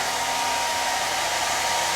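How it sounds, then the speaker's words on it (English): Household hairdryer blowing air for a ping pong ball demonstration gives off a loud, steady whirring drone with a constant motor whine, running unbroken and close by. "Maybe you've had a hairdryer at home and a ping pong ball laying around and you've done this before."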